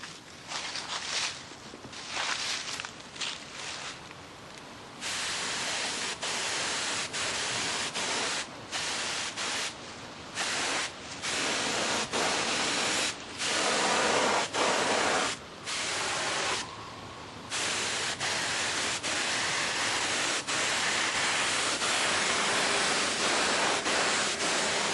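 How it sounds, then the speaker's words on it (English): Spray gun hissing paint onto a piece in a workshop, loud broadband bursts broken by short pauses before a long continuous spray. "I take my thumb off and spray this piece."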